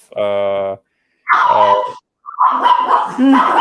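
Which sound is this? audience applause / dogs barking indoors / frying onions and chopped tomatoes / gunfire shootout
dogs barking indoors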